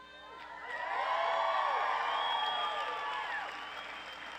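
Cheering and applause from a graduation audience, honoring the class of 2015, a broad crowd roar swelling and holding steady with scattered whoops and no speech over it.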